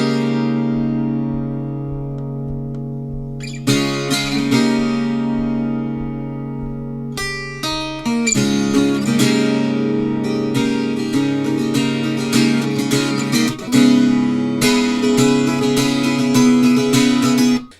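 Acoustic guitar playing a song's intro, starting with rhythmic muted string slaps, then bright percussive strums and chords building into a loud, steady, close-up strumming pattern.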